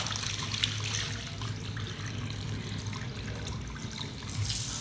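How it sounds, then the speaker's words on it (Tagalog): Water trickles from a tap at home in a thin, steady stream, a faint continuous dribble with a low hum underneath. "Nagtigo, may tubig karay."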